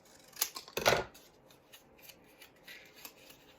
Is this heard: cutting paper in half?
yes